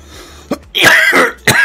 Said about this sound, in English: It's normally I don't cough this hard